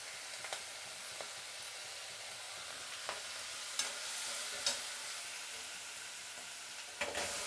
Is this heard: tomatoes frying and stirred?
yes